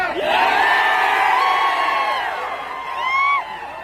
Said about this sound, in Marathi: पंढरपूरची तुला गर्दी बघायची होती ना.